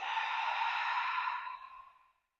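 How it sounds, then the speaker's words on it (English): Long, deep breath exhaled through the mouth during a beginner yoga routine, a smooth, airy whoosh that holds steady and then fades out, alone and close. "take a deep breath in. Exhale out the mouth."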